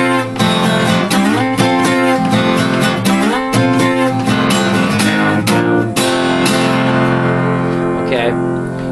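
Acoustic guitar strumming a song's pattern with down and up strokes and slides, played loud and close in a driving rhythm before the final chord rings out.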